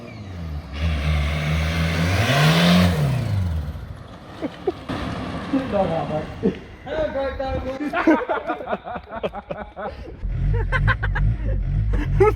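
A car engine started and throttled by hand through a horn switch, surging up into a loud revving roar and dropping back, with laughter and chatter around it, then later short bursts of revving near the end.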